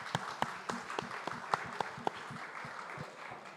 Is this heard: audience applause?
yes